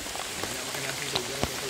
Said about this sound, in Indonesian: tapi hujan lagi.